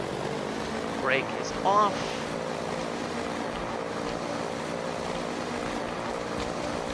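Propeller aircraft engine in a vehicle-mod game drones steadily at a constant pitch throughout, with someone speaking briefly over it near the start.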